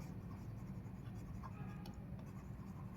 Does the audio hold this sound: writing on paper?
yes